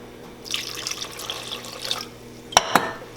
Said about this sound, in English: all I'm gonna do is add a little bit of water to it